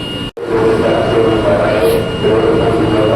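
A KRL commuter train, JR East 20552, rolls into a platform at Tanah Abang station in the morning. It gives a steady, loud rumble with a high whine over it, drops out briefly near the start, then carries on continuously.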